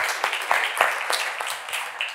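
Audience applause at a business talk on a Guatemalan hummus company, a steady patter of many hands clapping at moderate volume with sharp individual claps rising above the wash and no talk.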